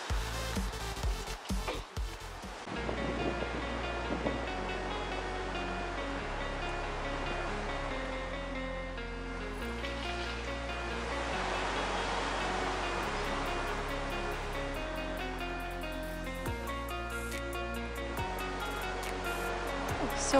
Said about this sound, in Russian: И холодно, и волны.